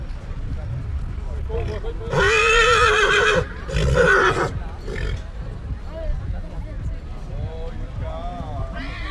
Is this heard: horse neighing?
yes